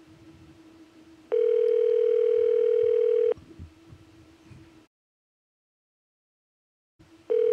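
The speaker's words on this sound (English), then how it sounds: "Oh, it's ringing." A steady electronic ringback tone sounds for about two seconds, pauses in silence, then starts again, loud and close.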